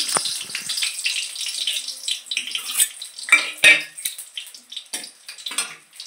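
Oil frying in a pan as garlic and turmeric powder are added, with clinking utensils and stirring scrapes over a steady sizzle; a few louder metallic knocks stand out near the middle.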